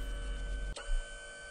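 A futuristic 3D printer in the Machinika Museum video game hums steadily, then gives an abrupt clunk and shifts into a softer mechanical whir, close and alone.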